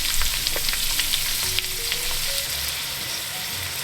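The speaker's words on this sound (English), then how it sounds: "So we've got our oil in our pan. So into that we're going to put our onions." Onions fry in hot oil in a pan, giving a steady, close hiss of sizzling with light scraping as they are stirred.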